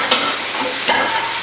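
Vegetables for vegan dumplings hit a hot pan with a loud, close, hissing sizzle, and two sharp scrapes of a utensil sound within a brief moment.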